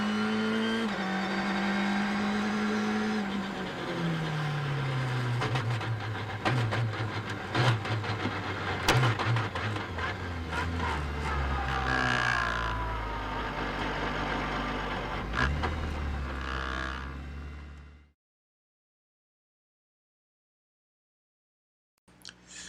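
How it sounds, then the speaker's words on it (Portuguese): BMW Sauber Formula One car crossing the finish line at the 2008 Canadian Grand Prix, a loud high-revving engine howl with falling pitch sweeps and crowd or track noise, fading out abruptly near the end. "Aqui você vê o Kubica cruzando a linha de chegada no Grande Prêmio do Canadá 2008, onde ele venceu pilotando a BMW Sauber"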